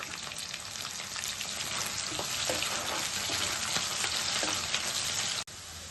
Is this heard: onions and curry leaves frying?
yes